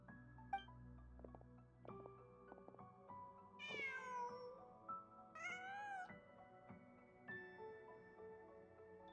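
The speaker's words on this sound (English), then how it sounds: "Just a cat." A cat in Genshin Impact meows several times, the calls drawn-out and rising, spaced apart over quiet background music with no speech.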